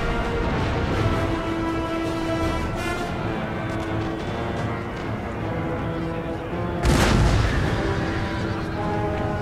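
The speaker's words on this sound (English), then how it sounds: "that canister shot completely annihilated that Hungarian Hussar as they rout" Canister shot artillery volleys in the Napoleon Total War video game during the Battle of Dresden, a continuous rumble of booming cannon fire with a louder, sharper blast near the end, no talk.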